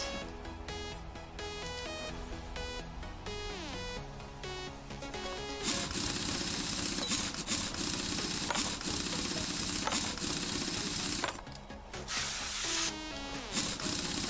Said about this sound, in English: that's exactly how WD-40 works